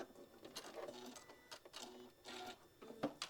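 A sewing machine runs a quarter-inch seam in short bursts with a light, steady mechanical whir, stopping and starting for back tacking at the end; the sound is quiet and close, with no talk.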